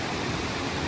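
A mountain valley stream in the 12 Seonnyeotang gorge of Seoraksan flows steadily, with a dense, even rush of water and no other sounds.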